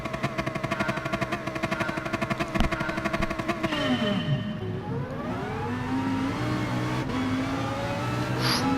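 A Lamborghini Huracan GT3 race car in a racing video game on a Brazilian circuit, its engine buzzing loudly under constant throttle, dipping as it downshifts, then climbing again through the gears.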